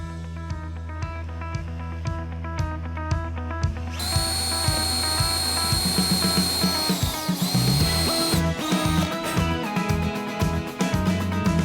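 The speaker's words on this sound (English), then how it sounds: "we're gonna drill some pilot holes and screw it together" A power drill whines in repeated short bursts, then runs longer with rising pitch as it bores pilot holes while building a tyre seesaw, close and loud.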